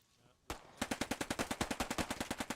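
Automatic gunfire in the World War II shooter Post Scriptum: one sharp shot, then a rapid, evenly spaced burst of about eighteen machine-gun rounds, loud and close.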